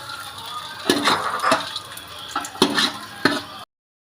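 Raisins dropped into hot ghee for biryani, a soft steady sizzle with several sharp stirring clinks of a spoon against the pan, close up and with no voices.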